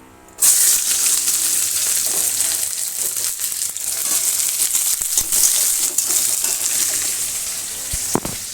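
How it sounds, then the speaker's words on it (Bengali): Sliced onion dropped onto cumin fried red in a village-kitchen pan bursts into a sudden loud sizzle that stays constant and hissing, with a few crackles and a utensil knock near the end, no voices. "জিরেটা লাল লাল হয়ে গেছে এখন পেঁয়াজটা দিয়ে দেবো"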